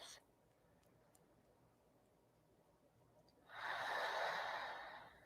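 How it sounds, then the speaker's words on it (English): A single slow, deep breath, audible as a soft airy exhale that swells and then fades, close and alone against a quiet background. "taking nice, slow, deep breaths in through your nose, out through your mouth"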